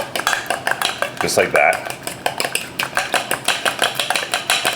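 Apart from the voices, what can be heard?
beating egg with salt and pepper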